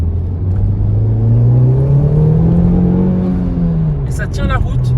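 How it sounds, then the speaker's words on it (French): A Honda Civic Type R with a turbo engine pulls hard, its low engine note climbing and swelling under steady road noise, with people talking inside the car and a whooshing burst near the end. "on entend pourtant le turbo"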